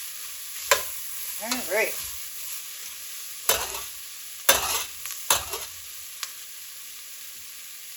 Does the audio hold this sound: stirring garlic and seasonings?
yes